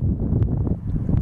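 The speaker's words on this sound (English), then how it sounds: "A little windy out here today." Wind gusting across a microphone outdoors on a windy day while a DJI Phantom drone carrying a GoPro 4 Black is being flown, a steady low rumbling buffet with brief louder puffs, close and fairly loud.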